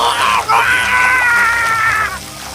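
A cartoon man named Udo screams in agony as his lower body is lowered into strong acid on a waterwheel execution device. He gives a loud, strained, sustained cry that breaks briefly, then runs on for about two seconds before fading.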